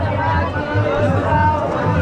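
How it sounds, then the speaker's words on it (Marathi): Dense crowd hubbub at the Sailani Baba yatra fair in Chikhli, Buldhana, a steady wash of overlapping chatter and voices all around, continuous and fairly loud with no single sound standing out. "बघा गर्दी किती आहे"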